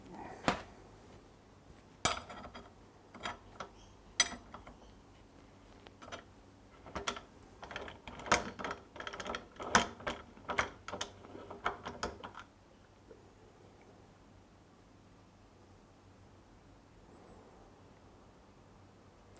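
A filter tool works loose the oil filter on a Moto Guzzi Le Mans 1000 clamped to a bench, a close run of metallic ratcheting clicks and clanks, irregular at first and then dense, before falling quiet.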